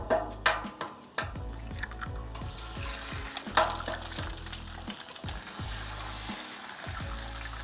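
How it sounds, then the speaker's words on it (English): Eggs and breakfast items frying in oil on a Blackstone 28-inch griddle under a cloche, giving a steady close crackle and sizzle with scattered drips and a few sharp pops, no voices. "Back on with the cloche and let them fry away."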